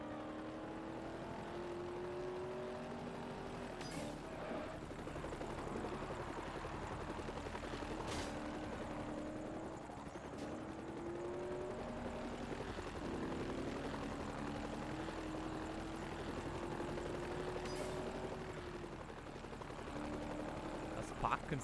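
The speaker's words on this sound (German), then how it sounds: "Und wir treten jetzt tatsächlich gegen einen Helikopter an." Helicopter flying in the Forza Horizon racing game, a steady engine and rotor drone running throughout alongside car engine tones, with someone talking over it.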